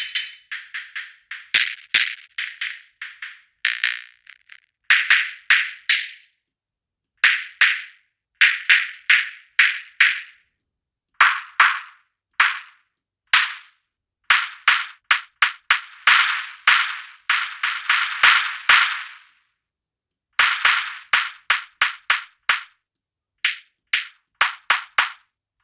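Synthesized clap drum hits from a DRUMR instrument in Ableton, sharp dry claps repeated in quick bursts and patterns with brief silences between groups, loud and alone.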